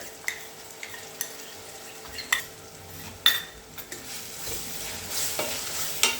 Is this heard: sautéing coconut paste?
yes